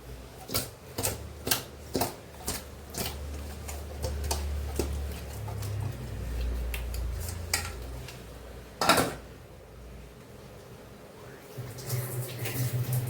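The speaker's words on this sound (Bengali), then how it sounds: "আমি এখন এটা মাছটা ভালো করে ভেজে নেব" Fish rubbed with salt, turmeric, chili powder and oil fries in a pan, a low steady sizzle broken by sharp clinks and taps of utensils against the pan, close up, with no talking.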